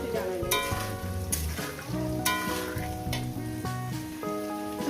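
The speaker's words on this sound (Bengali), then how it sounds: "বন্ধুরা আমি তিন চার মিনিট আলুটাকে ভেজে নিয়েছি" Potatoes frying in oil for a jhinge aloo posto, a steady close sizzle with stirring scrapes and faint tonal music playing throughout.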